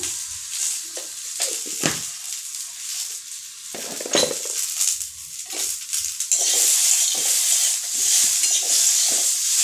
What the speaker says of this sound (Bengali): দিয়ে সামান্য হলুদের গুঁড়ো দিয়ে নাড়াচাড়া করে